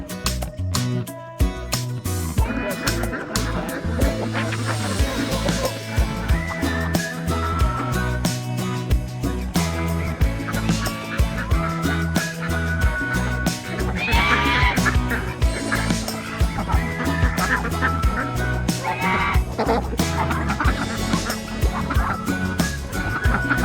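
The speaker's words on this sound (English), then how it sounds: "now we have both the chickens and the ducks here in the back of the garden" Dense, continuous honking and quacking from a flock of ducks and chickens in a garden, loud and overlapping for the whole stretch.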